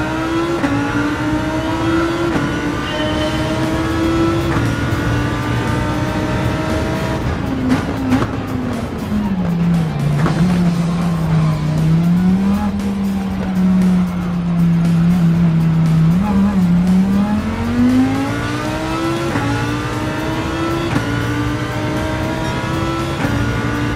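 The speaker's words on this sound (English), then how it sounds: "listen to the roar of the engine and the sounds of gear shifts" Lamborghini Huracán engine in a PS5 racing game at the Nürburgring, a sustained loud roar whose pitch climbs and drops as gears shift through the run, with a faint voice in the background.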